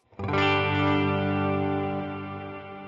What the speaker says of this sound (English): I can now turn off the reverb, and then the tails will keep going